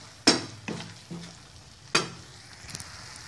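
Tuna flakes and black pepper are stirred in a frying pan, with two sharp utensil scrapes and a couple of lighter knocks against the pan over a low sizzle, close and clear, with no talking.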